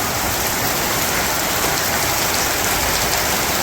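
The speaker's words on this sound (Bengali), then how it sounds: "তো বৃষ্টি নেমে গেল" Steady, dense village storm rain hisses loudly and evenly throughout, with no voices or breaks.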